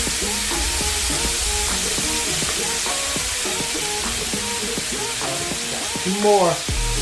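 Korean galbi short ribs sizzle and fry steadily on a hot grill with constant crackle and hiss, with voices talking over it.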